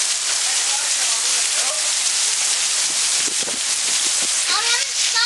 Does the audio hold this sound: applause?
no